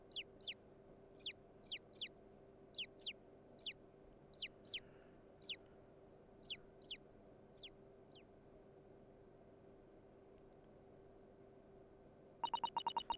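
Chickens in The Great Ace Attorney Chronicles cluck in a quick series of short, sharp game-audio calls, about a dozen in rhythmic bursts, then silence before a brief rapid chatter at the end.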